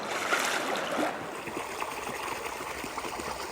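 Creek water flows steadily in the backcountry during a bighorn sheep hunt in Idaho. The rushing and trickling is continuous and close, with no voices, and a faint high whine runs faintly through the latter part.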